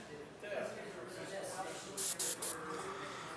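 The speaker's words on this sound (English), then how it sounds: "So I'll pull my hose up using my Patriot 105. Make sure that sprays good." A Patriot 105 airbrush being test-sprayed: a soft, steady airy hiss, then a few brief, louder bursts of spray near the end, close and quiet.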